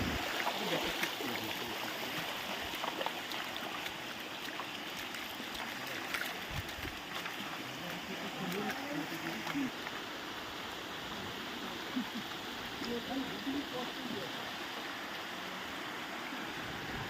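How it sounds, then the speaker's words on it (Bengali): Waterfall water flows and drops into a deep pool, a steady broadband rush of falling water heard close and continuous, with no talk over it. "এই যে ও দিক থেকে ঝর্ণাটা আসতেছে, এইটা ওইখানে পড়তেছে।"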